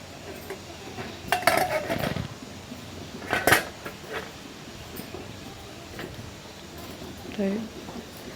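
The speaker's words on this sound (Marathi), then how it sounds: "आता इथं झाकण ठेवून देऊयात आपण." A lid is set onto a cooking pan of stuffed eggplant, giving sharp metallic clinks and rattles in a few bursts, with a person talking in between.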